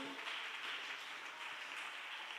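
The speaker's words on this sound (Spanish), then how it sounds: "Alguien que le dé un aplauso al Señor" Applause from a congregation during a church prayer service, a steady wash of clapping filling the whole moment without a break, moderately loud and unaccompanied by speech.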